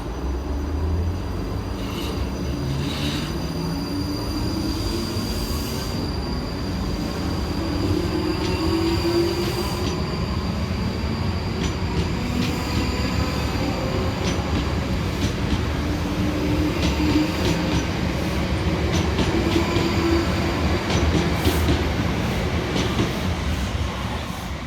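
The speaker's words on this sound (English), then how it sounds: "Next train out to depart is 458 425 and 458 423" A pair of South Western Railway class 458 electric trains pulls away from a station on the line to Reading, wheels rumbling and squealing steadily, with a loud continuous roar that builds slightly as the units accelerate past.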